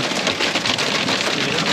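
Heavy rain pounds steadily on a tent while camping at Eastnor Castle in April, a dense, loud, unbroken roar of drops with no talk.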